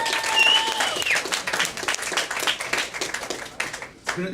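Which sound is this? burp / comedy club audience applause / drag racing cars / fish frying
comedy club audience applause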